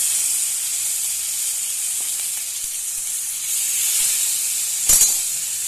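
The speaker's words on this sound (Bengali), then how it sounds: "মাছ ভেজে নেব ভালো করে।" A steady bright hiss of frying fills the scene, loud and continuous, with a brief sharper crackle burst near the end.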